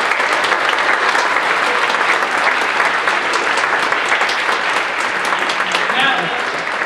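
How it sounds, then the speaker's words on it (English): Concert audience applauding after a high school wind ensemble's winter concert, dense and loud clapping that stays steady throughout with a faint voice near the end. "So I know when you give him applause"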